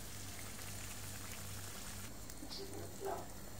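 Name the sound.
squid simmering in its own water in a pan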